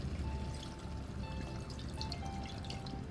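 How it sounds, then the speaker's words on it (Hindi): A small amount of water is poured into a pan of Indian fish curry (machli ka salan) simmering on low flame, giving a soft, steady trickling pour at close range with no talking. "बहुत थोड़ा सा पानी डालकर"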